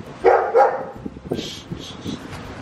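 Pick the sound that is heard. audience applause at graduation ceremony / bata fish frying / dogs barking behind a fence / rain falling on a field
dogs barking behind a fence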